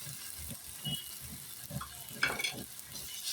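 Spices frying in hot oil, a mix of ground ginger and garlic paste, bay leaf, green chilli, chilli, cumin and turmeric powders, giving a soft, steady sizzle with faint stirring scrapes and a few brighter crackles, heard alone.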